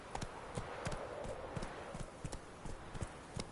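Galloping horse in The Witcher 3, quick sharp hoofbeats in a fast rhythm over a soft ambient bed, close and clear with no talk.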